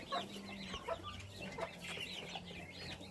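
Young turkey poults and a hen turkey clucking and peeping around a farmyard, with repeated short chirps and low clucks close by.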